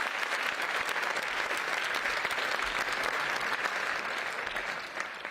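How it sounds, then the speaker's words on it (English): An audience applauds a governor at a criminal justice reform gathering, steady sustained clapping from a large crowd at a distance that fades slightly toward the end. "Stand up and get a round of applause to Governor Tom Wolf."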